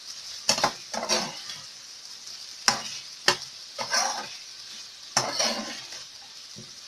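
Egg and spinach mixture sizzles steadily in a pan while a utensil stirs it, with repeated sharp scraping and clinking strokes against the pan every second or so, close and fairly loud.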